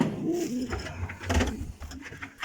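Pigeons coo softly nearby amid a busy outdoor background, their low throaty calls repeating over a murmur of ambient noise.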